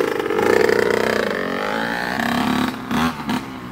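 A two-stroke dirt bike engine revs high with a loud, buzzing whine that holds steady and then drops and surges in short bursts, heard close and on its own.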